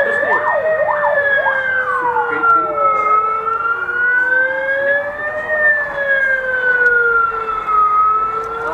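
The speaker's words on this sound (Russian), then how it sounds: "Блять, пожарная." Fire engine siren wailing loud and close, rising and falling in long sweeps with a quicker yelping stretch at the start, filling the whole stretch over street noise.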